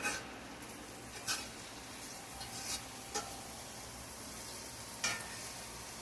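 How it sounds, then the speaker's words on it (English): Squash sizzles steadily as it fries in a pan while a utensil scrapes and stirs, with a few sharp clicks against the pan. "let's stir our squash back up"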